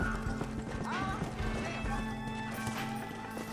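Horse hooves clip-clopping in Red Dead Redemption, a steady rhythmic galloping beat with occasional snorts or whinnies, close and fairly loud beneath game music and someone talking.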